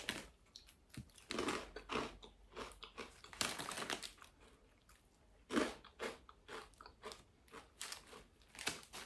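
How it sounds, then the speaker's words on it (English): Crunchy Cheetos are bitten and chewed up close in a quick, irregular run of crisp crunches with short pauses between them, loud against an otherwise quiet room and with no talking. "Let's try out the crunchy Cheetos."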